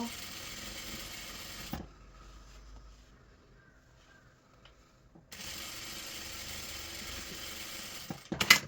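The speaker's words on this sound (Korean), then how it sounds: "이제 쭉 재봉해 가시겠습니다" A sewing machine stitches a jacket collar for a traditional Korean tweed jeogori, running in a fast, steady mechanical whirr, pausing for a few seconds of near quiet with small handling noises, then starting up again close by.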